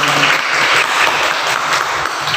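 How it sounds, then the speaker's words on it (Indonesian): A class of students claps together in dense, loud, continuous applause throughout the short burst. "Kasih tepuk tangan."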